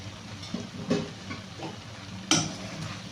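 Ginger garlic paste sizzling in olive oil for a chicken curry gives a steady, fairly close hiss, broken by a few sharp clinks and scrapes of stirring in the pan.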